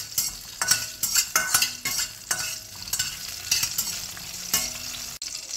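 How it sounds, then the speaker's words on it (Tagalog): Chili sautéed in a hot pan, with steady frying sizzle broken by repeated scraping strokes of a utensil stirring it, about one every half second, close and clear. "Igigisa na natin yung chili. Ayan, ginisa ko yung chili."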